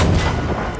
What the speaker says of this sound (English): Oh no, enemy tank! Right there!